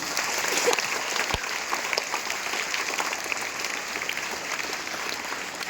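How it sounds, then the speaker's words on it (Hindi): A crowd gathered for a prize announcement greets two children with applause, a steady, even patter of many hands clapping throughout, moderately loud and without talk. "तालियों से स्वागत करें"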